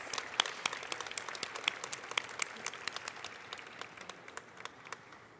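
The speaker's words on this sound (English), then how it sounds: "Give these teams another round of applause." Audience applause at a high school closing ceremony, with quick scattered claps that thin out gradually over several seconds, fairly quiet and without speech.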